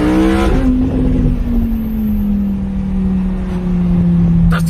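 A car engine revs hard and loud up close, its pitch sliding steadily down as it holds a strong, continuous roar with no talk over it.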